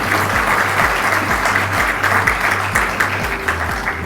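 Sustained audience applause during a formal address at a 27th session, dense clapping filling the room with a steady low rhythmic thump underneath throughout.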